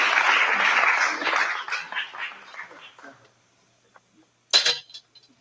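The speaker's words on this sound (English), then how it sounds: "will you clap real loud?" A small audience bursts into loud, close applause that fades within a few seconds, followed by quiet and a brief second flurry of scattered clapping near the end.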